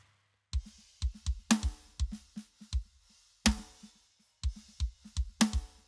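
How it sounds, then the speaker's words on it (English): A parallel-compressed prog drum bus fed mostly by snare plays a groove of sharp, punchy snare and kick hits with occasional crashes, fairly quiet and with no voices. "This is a pretty common tactic to send a lot of snare to your parallel compression"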